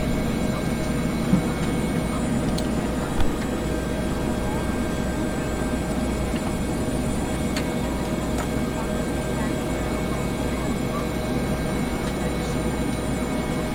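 A Bell 412 helicopter in X-Plane 11 makes a steady, even engine and rotor drone that stays constant throughout, with someone talking over it.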